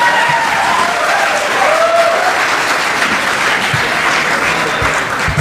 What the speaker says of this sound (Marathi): मी पाणी पितो, टाळ्या वाजवा.